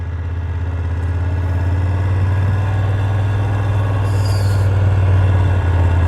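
A motorcycle rolls along at low speed through a corner, its engine a steady, loud, low drone with little change in pitch.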